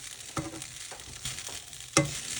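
Cooked mixed fried rice being stir fried in a pan to warm through: a steady sizzle with scattered clicks and scrapes of a utensil against the pan.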